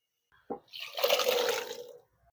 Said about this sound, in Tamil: இதோட வேக வச்சு வச்சிருக்கூடிய கொண்டக்கடலை சேர்த்துடலாம். அந்த தண்ணியோட சேர்த்துடலாம்.